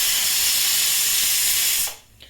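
A pressure cooker on a kitchen stove vents steam with a loud, close, continuous hiss that cuts off sharply near the end.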